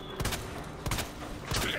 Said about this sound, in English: Give him a few leg shots.